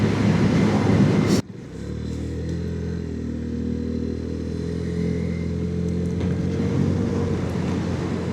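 A Lexmoto OCR 125cc motorcycle is ridden in winter, its engine droning steadily under heavy wind rush, with a sudden drop in buffeting partway through as the hum carries on, close and continuous.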